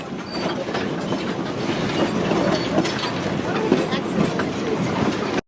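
A Shay geared steam locomotive runs on the Yosemite Sugar Pine logging railroad, giving a loud, close, continuous rumble with rhythmic clanking and rail clatter that carries steadily before cutting off abruptly.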